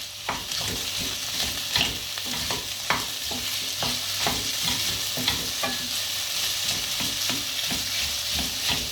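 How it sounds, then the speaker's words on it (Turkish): Tomato paste sautéing and being stirred in a pan, a steady sizzle broken by a regular rhythm of spoon scrapes and clinks, close and continuous with no talking. "Ve salçanın çiğ kokusu çıkıncaya kadar birazcık kavuracağım"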